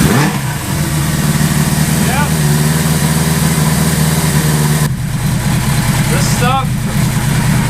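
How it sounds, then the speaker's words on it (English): A rebuilt Suzuki GS850 motorcycle engine cranks, catches and idles with a steady low, throbbing rumble, with a brief blip of throttle midway and faint voices over the running engine. "Start, please, GS850. You now have no reason to not start."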